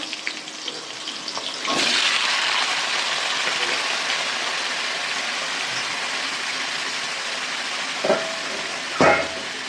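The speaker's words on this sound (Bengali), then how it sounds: "আলু চচ্চড়িটা বসিয়ে দিলাম বন্ধুরা" Potato curry (aloo chorchori) with green chillies frying in a pan gives a steady, hissing sizzle, with a couple of brief clanks of stirring near the end; no one speaks.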